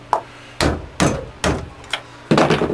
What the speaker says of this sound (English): a good tap of the hammer